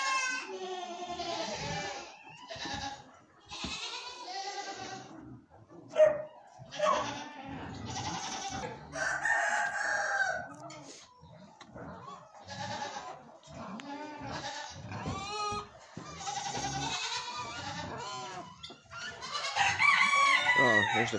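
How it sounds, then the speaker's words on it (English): Goats bleat repeatedly at a farm during feeding, with chickens clucking and a rooster crowing among them, the calls near and overlapping throughout. "there's the pigs and goats"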